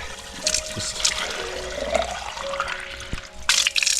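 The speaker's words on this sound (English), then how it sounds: "there are these free outdoor fountains everywhere." Water pours from a free public outdoor fountain in Italy, a close continuous trickle and splash with faint tonal hums in the background and a louder gush near the end.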